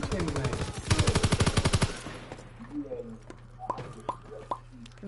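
Gunfire in the World War II shooter game Call of Duty WW2: a rapid automatic burst of about a dozen shots, then quieter scattered pops over a low game hum.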